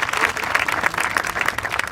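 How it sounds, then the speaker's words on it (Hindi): Audience applauding a child at an event, a brief burst of dense, lively clapping from a crowd at close range. "इस बच्चे के लिए एक ताली बजाइए"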